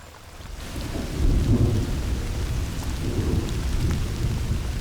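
Heavy rain pours down across an archaeological excavation site, a dense steady roar with deep rolling thunder swelling in and rumbling on throughout, loud and close with no voices.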